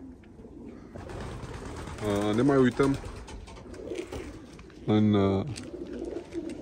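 Pigeon cooing in a loft during the moult, two short harmonic coos standing out under a voice talking over steady background noise.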